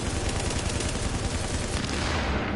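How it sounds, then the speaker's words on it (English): Continuous dense gunfire from a shooter video game, rapid automatic bursts packed tightly together at loud, steady level, no voices audible over it. "I shoot him in the head. Gave him headshot."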